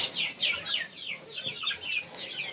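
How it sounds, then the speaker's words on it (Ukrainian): Several chickens cluck continuously nearby in quick, overlapping calls. "Ось такі кури в мене."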